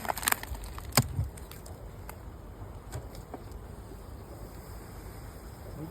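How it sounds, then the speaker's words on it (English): Honey bees buzz steadily inside an open hive during a spring inspection, a continuous close-up drone with a few brief sharp knocks and clicks near the start. "Oh, plenty of bees in there."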